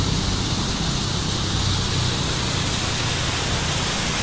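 A splashing water fountain at an outdoor venue, beside an entrance arch decorated with balloons, gives a steady, loud wash of falling water that runs unbroken from start to end, with no voices.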